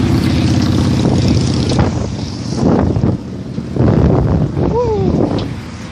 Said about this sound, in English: This wind is moving.